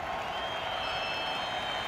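Crowd applause for a Spanish team at a Red Bull Flugtag event, a steady, distant wash of clapping from many spectators continuing without pause, with no clear voices on top.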